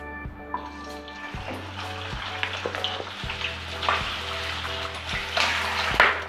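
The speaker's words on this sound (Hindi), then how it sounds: "अब मैं ऑयल में डाल रही हूँ चिकन।" Chicken pieces shallow-frying in hot refined oil in a kadai give a loud, continuous sizzle close by, with scraping stirs and a low steady hum underneath. Nobody talks.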